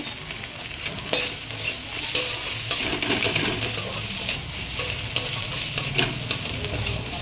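A spice masala for mutton and papaya curry is sautéed in a pan, with a constant frying sizzle and repeated scraping and tapping of the spoon stirring it at an uneven rhythm.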